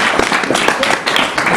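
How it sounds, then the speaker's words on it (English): Audience applause at a live show where people judge between a photo and a painting, a dense steady wash of many hands clapping at moderate loudness with no voices over it. "By applause"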